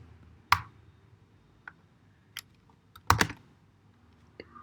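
Sparse, sharp key clicks from a computer keyboard as Python loop code is typed: a handful of separate, close taps and short double strikes with quiet gaps between them.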